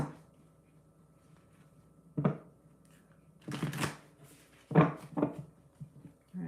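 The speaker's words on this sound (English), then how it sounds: "One more shuffle for Taurus." Tarot cards being shuffled by hand, a few separate bursts of riffling and shuffling, close and clear against a quiet room.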